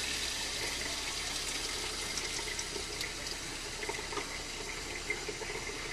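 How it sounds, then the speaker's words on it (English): Water running from the tap into the sink of a Forest River R-Pod RP182G travel trailer, fed by the RV water pump, a steady close hiss with no talk. "Then you'll hear the pump kick on."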